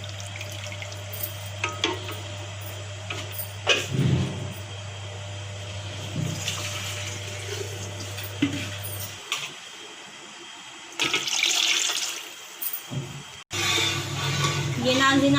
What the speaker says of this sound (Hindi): हम इसमें डालेंगे थोड़ा सा पानी और